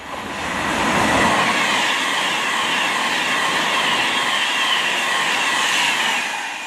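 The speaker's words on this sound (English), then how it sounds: "now we've got a Glasgow Central to London Euston Pendolino" A Pendolino express on the West Coast Main Line, running Glasgow Central to London Euston, passes through South Kenton as a loud, steady rush of wheels and rail noise that builds quickly and holds close throughout.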